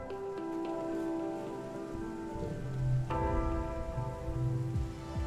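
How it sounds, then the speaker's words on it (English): Rain falls steadily in the video game I Was a Teenage Exocolonist, a soft continuous patter on surfaces beneath a sustained musical drone, with a few heavier drips after the midpoint. "I love it when it rains here, he exclaims."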